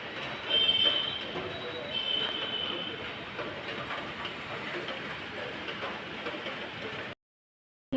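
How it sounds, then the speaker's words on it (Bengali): Steady evening rain falls continuously, a constant close hiss that stops abruptly just before the end. "বৃষ্টি পড়েই যাচ্ছে দেখো"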